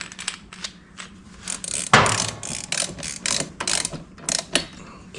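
A torque wrench ratchets on a Honda Metropolitan scooter, with a run of close, sharp clicking strokes and one louder metallic snap partway through. No talking.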